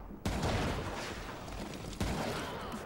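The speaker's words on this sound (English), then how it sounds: "I do get to use it to show off how completely awesome the sniper rifle is" Sniper rifle fire in the video game Foreign Legion: Multi-Massacre, two sharp shots about two seconds apart, each followed by a long roaring tail of rumble and debris over continuous battle noise.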